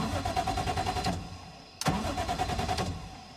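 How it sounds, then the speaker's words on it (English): Up close, the 1JZ engine in an FC Mazda RX-7 drift car cranks with a steady rhythmic chugging, breaks off with a short jolt, then churns on again at an even pace. "So to start the car"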